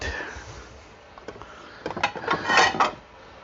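Crockery clinks and clatters nearby as a plate is pulled out while making Biscoff pancakes, a quiet pause followed by a burst of sharp ceramic knocks and scrapes.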